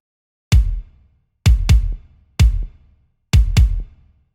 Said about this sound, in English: So here we are having an acoustic kick which sounds like this.